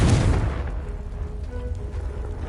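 A Confringo fire spell bursts in Hogwarts Legacy, giving a loud, close blast with a deep boom that slowly rumbles away over a couple of seconds.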